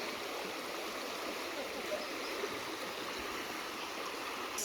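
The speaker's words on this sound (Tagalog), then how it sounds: "So, ganyan ang ilog namin dito." Water of a clean river stream rushes steadily and continuously, a broad even hiss close by with no voices over it.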